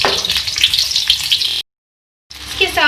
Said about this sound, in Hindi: तो सबसे पहले हम घी में ऐड करेंगे प्याज। तो हम थोड़ा सा फ्राई कर लेंगे।